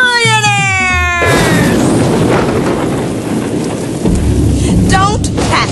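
A loud thunderstorm: heavy, steady rain roars throughout while a deep rumble of thunder swells and rolls, with a brief tonal sweep near the start and end.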